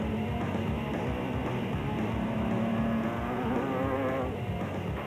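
A Nissan off-road race vehicle in the Limpopo 400 rally runs flat out on a clear road, its engine droning steadily and fairly close throughout, with no voices over it.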